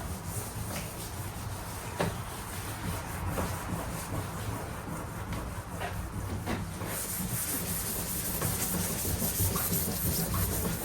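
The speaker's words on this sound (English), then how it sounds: "While you're sanding on this valve" Steady abrasive sanding against a metal valve on a Harley-Davidson sidecar, continuous and close, with a constant hiss and faint low hum running underneath.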